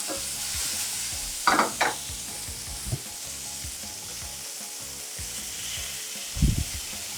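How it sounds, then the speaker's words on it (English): Cherry tomatoes go into a frying pan of pork and sweet corn, sizzling steadily while a utensil scrapes and stirs, with a few louder clatters against the pan. "And also I'll add the cherry tomatoes."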